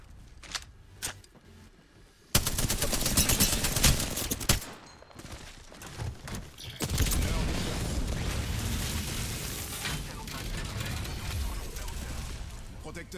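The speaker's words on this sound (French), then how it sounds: "On me tire dessus." Rapid bursts of automatic gunfire and shots crackle through an Apex Legends firefight, loud and dense after a quieter opening, with scattered impacts and effects throughout.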